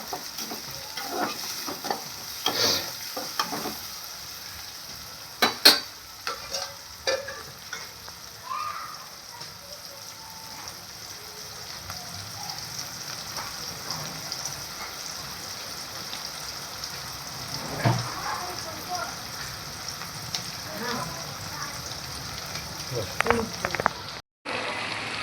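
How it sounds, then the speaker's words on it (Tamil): Onions sautéing in a pan with salt added, cooked village-style for a bat fish curry: a soft, steady sizzle with scattered stirring scrapes and clinks throughout, moderately quiet. "வெங்காயமும் நல்லா வதங்கி வரும்."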